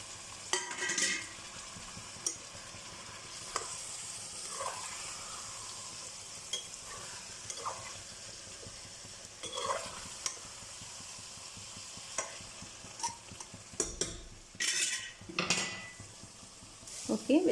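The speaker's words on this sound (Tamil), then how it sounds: "இப்போ இந்த கிரேவிலே இது வெஜிடபிள்ஸ் எல்லாம் நல்லா நம்ம மிக்ஸ் பண்ணலாம்" Vegetables are stirred into biryani gravy in a pot. A spoon scrapes and clinks against the pot at uneven moments over a low, steady sizzle from close by, and some faint talk comes and goes.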